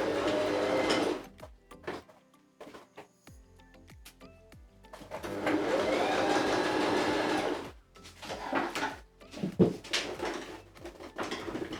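Sewing machine stitching a sleeve onto a jacket, running in several bursts of steady mechanical whirring with short pauses between, close and fairly loud.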